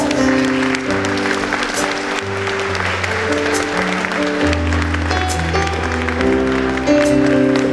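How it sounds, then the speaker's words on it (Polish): An audience applauds at a musical Stations of the Cross church event, steady close clapping that lasts the whole stretch over sustained tonal music. "Pan Krzysztof Gotowicz, wielkie brawa."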